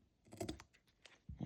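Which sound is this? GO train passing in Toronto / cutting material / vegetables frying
cutting material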